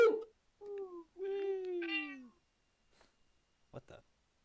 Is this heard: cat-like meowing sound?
yes